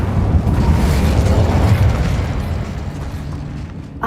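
Casting the Incendio fire spell in Hogwarts Legacy gives a loud whooshing, rumbling eruption of flame, a dense explosive burst that fades gradually over a few seconds.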